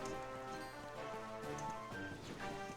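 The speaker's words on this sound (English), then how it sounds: "Oh, do they get spooked because of the rain?" Steady rain falls in the video game Dragon Quest XI, a continuous soft patter with game music running over it, at a constant moderate level for the whole stretch.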